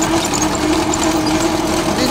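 Tractor engine driving a pipeline trench digging machine, a loud, continuous close drone with a slight rough knock and no pauses.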